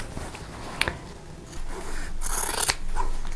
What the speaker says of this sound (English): I'm just going to use my scissors, and then I can save those pieces